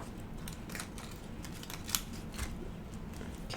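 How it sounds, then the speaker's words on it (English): Scissors snipping through sticky paper give repeated soft, crisp cutting strokes close by over a steady low background noise. "Don't use your good scissors on sticky things"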